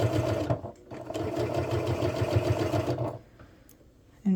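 A sewing machine stitches sweater fabric in steady bursts, running hard for about two and a half seconds, pausing, then briefly resuming with a close, mechanical buzz and no talking.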